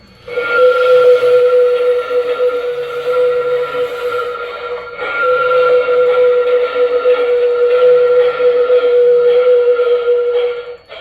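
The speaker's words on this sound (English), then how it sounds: "F16 is the flange squeal, and that only plays with movement now." Flange squeal from an LGB Mogul model locomotive running on a Zimo sound decoder: a loud, sustained high-pitched metallic screech that holds steady for about ten seconds, with a short dip in the middle.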